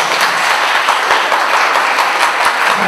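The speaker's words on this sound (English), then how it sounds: "shall we give a big round of applause to our guests?" A dense, loud round of applause from an audience honoring guests at a university lecture on Japan and its culture, continuous full clapping close up with no talk over it.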